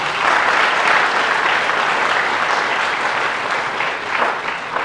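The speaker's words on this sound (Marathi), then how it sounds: "प्रथमतः या तिन्ही व्यक्तींचं आपण टाळ्या वाजवून स्वागत करूया।" An audience claps to welcome three guests at a college workshop on startups and innovation in Sangamner: dense, sustained applause from a roomful of people that stays strong for about five seconds, then thins slightly.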